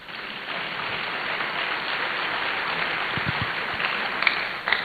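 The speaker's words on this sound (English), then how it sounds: "You can clap." An audience in a university auditorium applauds at a national youth forum, a sustained, dense wash of clapping that stays steady throughout, with a few brief cheers near the end.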